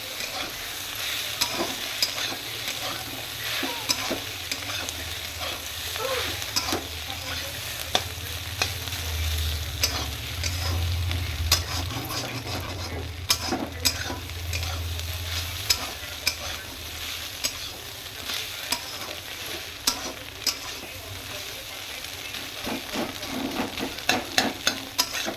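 An egg and potato mixture stirs while frying in a pan, a continuous soft sizzle with frequent spoon scrapes and taps against the pan throughout, close and moderately loud with no talking.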